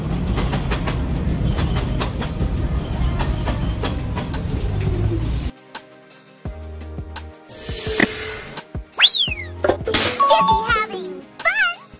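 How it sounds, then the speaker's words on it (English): A subway train rumbles and clatters steadily for several seconds, then cuts off into quieter tones, chimes and short high-pitched electronic beeps. "The subway train."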